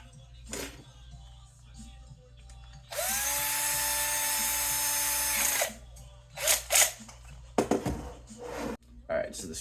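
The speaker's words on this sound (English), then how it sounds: "the screw I had was a little longer than I needed, but I've cut that down" A power tool cuts down an overlong black machine screw, a steady high whine lasting a few seconds, followed by clicks and knocks of handling nearby.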